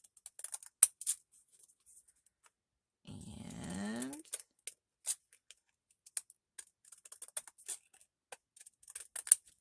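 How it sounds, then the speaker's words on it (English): Scissors snip small pieces from paper or card for a craft tag, a brief crunchy cut near the middle among faint scattered clicks and handling taps in a quiet room. "cut two more little pieces here"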